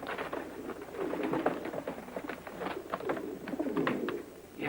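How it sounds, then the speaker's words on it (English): A flock of carrier pigeons coos continuously in a Western outdoor setting, with overlapping soft throaty calls rising and falling in a dense, steady murmur, close and moderately loud. "Sounds like pigeons."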